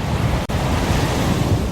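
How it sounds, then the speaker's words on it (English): Storm effect of gale-force wind and crashing waves roars as a dense, loud, continuous wash of noise, broken only by a split-second dropout near the start. "A world of darkness, gale-force winds, and crashing waves."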